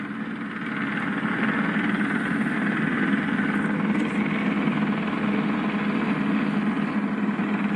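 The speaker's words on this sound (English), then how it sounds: "Airship's starting to hover now." Police helicopter hovering steadily overhead above a property, its rotor and engine a constant loud, close drone with no talk.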